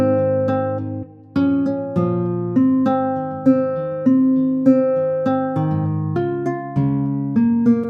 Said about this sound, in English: reversing this same guitar and see how it sounds with the main guitar that we have